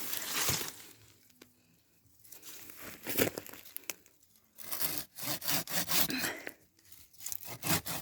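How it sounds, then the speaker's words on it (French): A fine-bladed hand saw cuts through a yucca trunk near the base with quiet, rasping back-and-forth strokes, pausing briefly and then resuming in a faster, steadier rhythm. "Avec la scie, on arrive bien, comme elle est fine, la scie se passe bien dans les coins."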